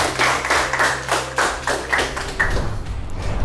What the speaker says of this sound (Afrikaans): gee hulle groot hande klap.